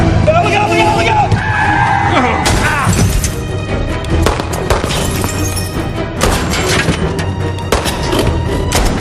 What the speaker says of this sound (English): The car chase actually goes on for many minutes more. It's one of the great car chases.